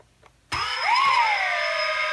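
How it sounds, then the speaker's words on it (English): Motors on a WLToys V303 Seeker quadcopter arm after near silence, spinning up with a sudden whine that rises and settles into a steady high-pitched buzz. "Motor's armed."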